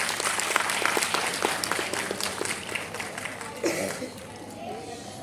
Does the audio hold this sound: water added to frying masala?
no